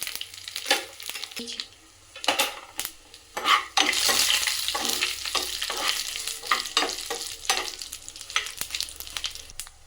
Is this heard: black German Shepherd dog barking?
no